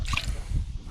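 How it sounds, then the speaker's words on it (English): A preservation solution mixture is poured and sloshes in a short, close, wet burst with squishy liquid gurgling, used to treat a Civil War revolver found metal detecting. "One of the best ways to mix thoroughly is to pour thoroughly."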